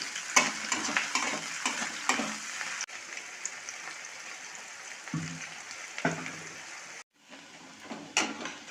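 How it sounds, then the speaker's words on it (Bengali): Onions frying with whole cumin in a pan for a prawn and lentil dish, giving a continuous close hiss with repeated scraping stirs and clinks of a spatula, and no talk. "পেঁয়াজটা খুব ভালো করে ভেজে নিতে হবে ব্রাউন করে"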